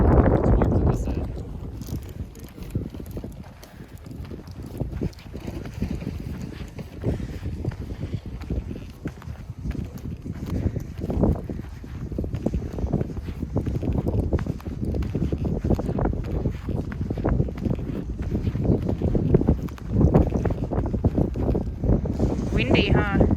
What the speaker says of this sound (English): Windy, huh? How you feel those gusts?